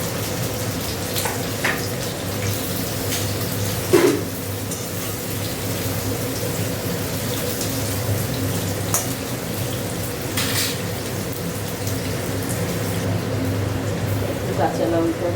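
Onion and potato frying in hot oil as okra curry begins, a constant sizzle running under intermittent speech, with a few clinks of utensils against the pan.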